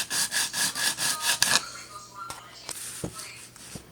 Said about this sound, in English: last step, finer sandpaper, give it a little bit of a polish